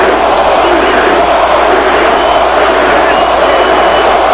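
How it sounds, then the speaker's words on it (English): A sellout boxing arena crowd roars and chants for fighter Cory Spinks, a loud, dense, continuous wall of massed voices sustained throughout. "the sellout crowd chants Cory, Cory"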